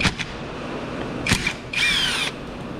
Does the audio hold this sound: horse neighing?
no